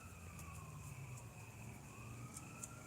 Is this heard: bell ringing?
no